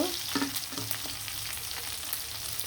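Hilsa fish and roe fry in hot oil in a pan, a steady close sizzle that runs the whole time with a few light stirring knocks early on.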